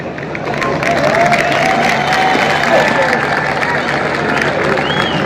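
An audience at an outdoor Hindi poetry gathering on a police ground claps steadily, a broad wash of applause with some cheering that swells after a quieter start and holds at a steady level.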